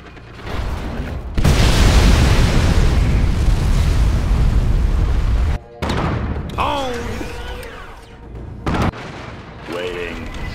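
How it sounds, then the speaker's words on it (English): A nuclear missile detonates in the real-time strategy game C&C 3: Tiberium Wars, letting out a huge roaring blast that rumbles loudly for several seconds. It cuts off abruptly, followed by quieter rumbling and warbling electronic tones. "Nuclear missile launched."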